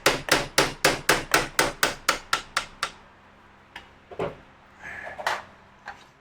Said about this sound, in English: Now I can knock that drill bit out.